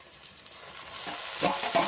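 Ripe chopped tomatoes sizzling in hot oil in a pan as they are stirred in, a steady close hiss with brief scraping stirs toward the end, no talking.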